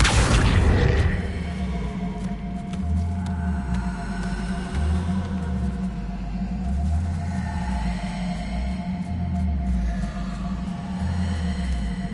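A spell explosion in the video game Hogwarts Legacy bursts loudly at the start, then fades into a deep rumble with low pulsing game tones that repeat steadily underneath.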